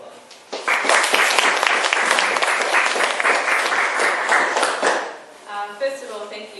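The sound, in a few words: audience applause welcoming a speaker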